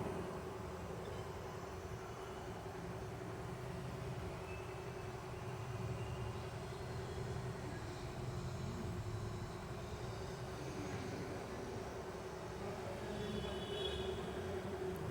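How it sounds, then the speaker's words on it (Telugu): A sewing machine runs a top stitch along the lining of a deep-neck work blouse, giving a steady, unbroken mechanical whir with a low hum that holds for the whole stretch without pauses. "వెనక కింద నుంచి నేను లైనింగ్ లాక్కుంటూ స్టిచ్ అనేది చేస్తున్నాను"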